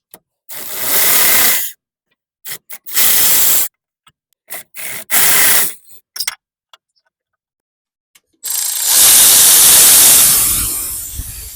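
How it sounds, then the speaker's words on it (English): Power-tool bursts remove 17 mm bolts from a Toyota Tercel transmission mount: several loud hissing spurts of varying length separated by silences, ending in one long sustained burst. "So now we can take off those 3 bolts completely off, 17 millimeters."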